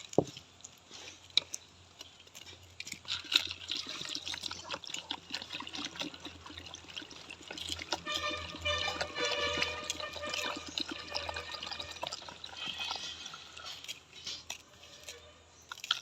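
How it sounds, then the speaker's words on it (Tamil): Water splashes and trickles close by as a pineapple is washed in salt water in a bowl, with faint clinks and rustles throughout. "அந்த அன்னாசி பழத்தை வந்து நல்ல வடிவாக கழுவி எடுக்கணும்"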